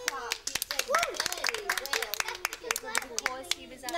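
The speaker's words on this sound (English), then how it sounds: "Give James a clap." Classroom claps for a student ring out near and irregular as children and an adult talk over them, with scattered sharp hand slaps throughout.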